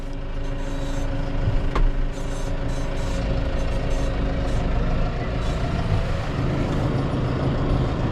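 Tractor pulling a grain drill with a reconditioned clutch while seeding oats, a steady loud engine drone with rumbling mechanical noise that runs the whole time, plus a brief clank partway through.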